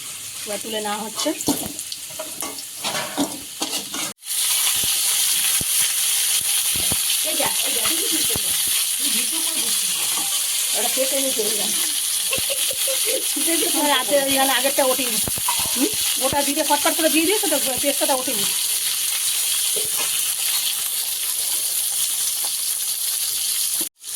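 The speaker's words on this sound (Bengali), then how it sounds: "আলুটা লাল লাল করে ভেজে নেওয়া হচ্ছে" Potatoes frying in oil until reddish-brown, a loud steady hiss and crackle of hot oil filling the whole stretch, with a voice talking over it in the middle.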